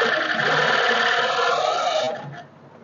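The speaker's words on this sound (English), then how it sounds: "how to run our industrial cover stitch machine" An industrial coverstitch (taping) machine runs steadily, stitching fabric with a loud, continuous mechanical whir that stops abruptly after about two seconds, leaving faint residual noise.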